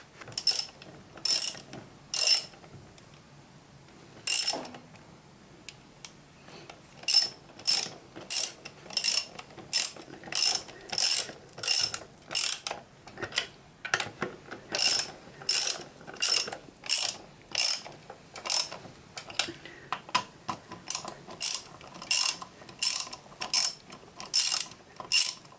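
Ratchet wrench clicking as a mechanic tightens the rear brake bolts on a Peugeot Citystar 125 scooter, repeated bursts of sharp close ratcheting clicks with short pauses, no talking.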